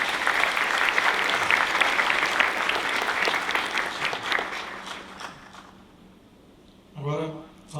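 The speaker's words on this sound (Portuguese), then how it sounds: "Uma salva de palmas." An audience at a talk on professional elegance breaks into a loud, sustained round of applause that fades out, and a voice begins speaking briefly at the end.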